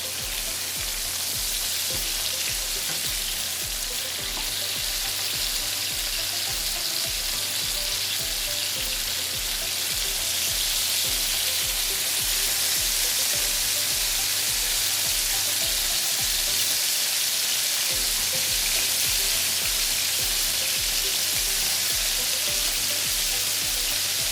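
Chicken pieces fry in a hot pan for lo mein, a steady, loud, dense sizzle that crackles evenly and continuously throughout with no talking.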